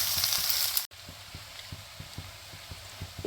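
Chopped garlic and sliced green chilies sizzle softly in hot oil, a quiet steady crackle with faint regular taps from stirring, after a louder brief burst at the start.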